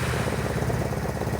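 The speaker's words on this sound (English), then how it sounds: "Fortunately, this scooter still starts, but just knowing from the noise, I know it needs the bottom end torn down." A Vespa GTS scooter with a worn bottom end runs steadily at low, close range, giving a rough, pulsing mechanical chug.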